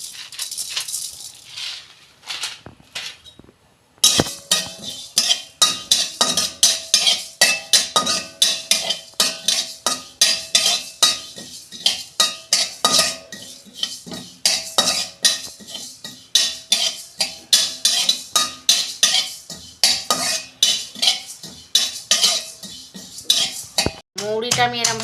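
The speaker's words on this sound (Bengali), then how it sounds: "মৌরিটা আমি এরমভাবে গুঁড়ো করে দেবো।" Dry-roasted fennel seeds being crushed by hand for malpua batter in a home kitchen, giving a fast run of rhythmic scraping, grinding strokes with clinks, loud and close after a quiet start.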